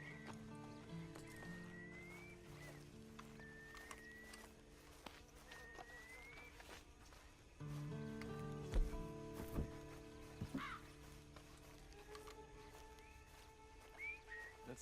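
Horse hooves clip-clop at a walk in the Red Dead Redemption 2 video game, faint and irregular beneath game music tones, with occasional louder thumps.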